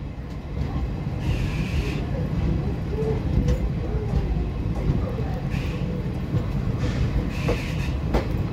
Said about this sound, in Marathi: आपण पोहोचलेलो आहे अकोला जंक्शनला, आपली गाडी आलेली प्लॅटफॉर्म क्रमांक 3 वर